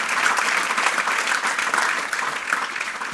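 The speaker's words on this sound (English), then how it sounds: "You can applaud if you want." Steady applause from a press conference audience at the Travelers Championship golf tournament, dense even clapping sustained throughout without a break.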